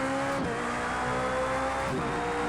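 A race car engine lapping Daytona in Project CARS 2 drones steadily at high revs, with a continuous loud tone and brief dips around half a second and near two seconds, as of gear changes or passing cars.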